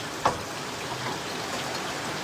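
Heavy rain falls outdoors while someone cooks at home, a steady, even hiss of downpour with one brief sharper splash near the start.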